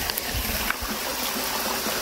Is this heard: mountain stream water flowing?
yes